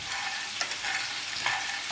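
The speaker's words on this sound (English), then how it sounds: "Then you add the peanuts slowly to a dish and mix effectively using a wooden spoon." A wooden spoon stirs peanuts in a hot dish, a continuous sizzling, scraping hiss with a couple of slightly louder strokes, close and steady with nobody talking.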